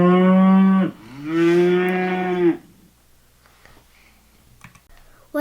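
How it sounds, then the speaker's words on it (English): A cow moos twice, long and loud, the second call a deep drawn-out low; afterward faint clicking and quiet background noise. "A cow sounds like this."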